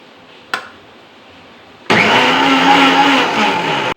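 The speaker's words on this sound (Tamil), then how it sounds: "ஃபஸ்ட்டு இதை மிக்சியில் அரைச்சிக்கிடுவோம்." A mixer grinder blends curd and oil in a home kitchen. A single click comes first, then a loud, steady whirring motor starts halfway through and runs without a break to the end, with no talking over it.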